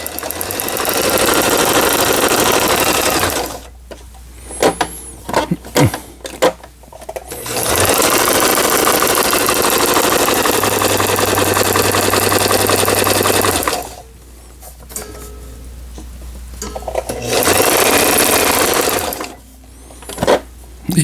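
Brother Star 2000 sewing machine stitching in several long, loud, steady runs of rapid mechanical whirring, separated by brief pauses filled with small clicks and handling noises.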